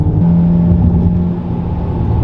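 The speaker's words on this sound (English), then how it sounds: "Just climbs through the gears." A tuned Volkswagen Golf R with an upgraded turbo pulls hard and loud from close by, its engine drone holding steady as it climbs through the gears, with no talking.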